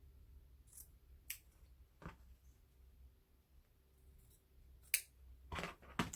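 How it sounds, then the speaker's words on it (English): Scissors snip through fabric while trimming a mini quilt for a cross stitch piece, a few quiet, sparse cuts spaced apart against a low, faint room background. "I'm going to cut the material even with the other part of the frame."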